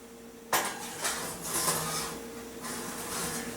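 A roasting pan holding a pork loin set into a cold oven: a sharp metallic clank of the pan meeting the rack, then softer scraping and rattling as it slides into place.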